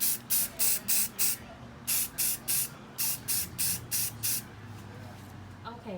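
A spray can fires a rapid series of a dozen or so short, sharp hissing bursts, evenly spaced, spray painting boxes, then stops, leaving a quiet room hum.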